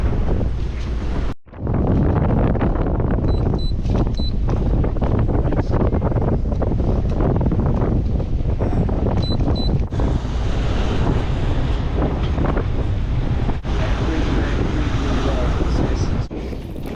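Wind buffets the microphone and waves slosh around a small sailboat crossing a wavy bar toward the Menai Strait, a loud continuous roar with brief dropouts and occasional faint voices.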